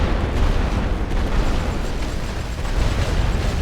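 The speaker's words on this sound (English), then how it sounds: "Load for area barrage." Artillery barrage explosions from the World War I game The Great War: Western Front pound continuously, dense overlapping booms and rumbling blasts forming a loud, unbroken roar.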